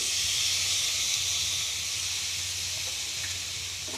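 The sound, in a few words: water added to spice paste (masala) in hot pan, sizzling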